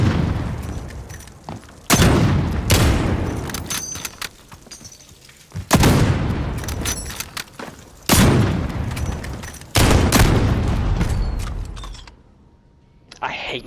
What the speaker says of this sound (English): That HDR sniper rifle for quick scoping, what the actual fuck?